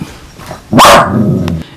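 A dog gives one loud, close bark that trails into a short rough growl, with soft faint sounds around it.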